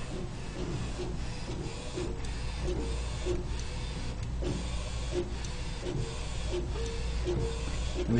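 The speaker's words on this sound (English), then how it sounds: "Just hit the ready button, print, and basically you're done. It takes it in and prints" An Anajet direct-to-garment printer printing a white shirt: a steady mechanical whir with a low hum beneath it and the print head's regular shuttling strokes repeating about twice a second, close by and running without pause.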